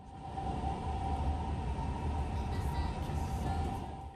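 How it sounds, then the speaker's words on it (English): Steady low rumble of a moving train in Monaco heard from inside a nearly empty carriage, with a constant hum and faint rattling throughout, no voices. "Train's on the move and it's almost empty."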